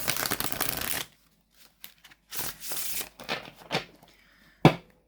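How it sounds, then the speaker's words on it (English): Flexible linen-finish World of Hilda tarot cards are shuffled close by: a dense, crisp riffle at first, then scattered slides and flicks, ending with a sharp snap. "And as you can see, a really gorgeous, gorgeous shuffle."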